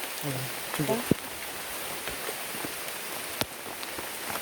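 Steady rain patters on a surface throughout at Tanaw de Rizal park, with a few louder drips and taps, and brief voices murmuring near the start.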